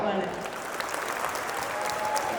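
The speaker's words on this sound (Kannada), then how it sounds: "ಶಶಿ ಸರ್ಗೋಸ್ಕರ ಒಂದು ಜೋರ್ ಚಪ್ಪಾಳೆ" An audience applauds Shashi sir at a stage event, giving a steady wash of clapping with a voice underneath.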